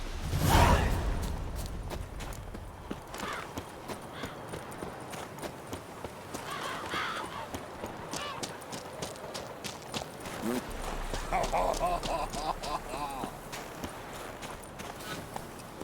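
Horse hooves clip-clop in The Witcher 3 video game, a steady walking rhythm under wind, music and occasional voices, with a louder swoosh near the start.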